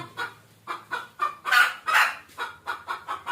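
A hen clucks repeatedly in short, rhythmic bursts as she searches for a spot to lay her eggs near a tricycle. Her calls are close and fairly loud, with a few stronger, fuller clucks in the middle.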